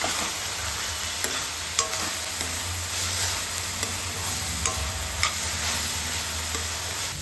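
Ginger garlic paste frying in oil for a mutton curry, a steady close sizzle with scattered clicks and scrapes of a spoon stirring the pan, no voices.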